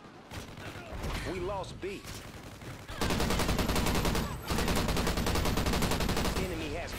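Dense automatic gunfire from a video game shooter rattles continuously, loud and close, with a brief gap midway, while voices talk over the barrage.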